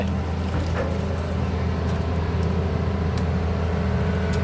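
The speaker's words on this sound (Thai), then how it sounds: "เครื่องยนต์ Isuzu 6 BG1" An Isuzu 6BG1 diesel engine powers a Hitachi ZX200-1 excavator idling steadily at a muddy canal dredging site, giving a continuous low rumble with a faint mechanical whine above it and no talk.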